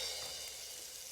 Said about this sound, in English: that was the sizzle